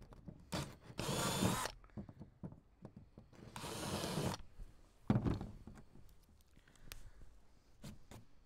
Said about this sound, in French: j'ai percé tous les trous, j'ai mis des chevilles